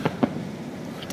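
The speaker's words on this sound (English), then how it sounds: "Damn lame fireworks." Distant fireworks over the Southampton waterfront pop in two quick faint bursts at the start, with a few softer cracks later over a low background murmur.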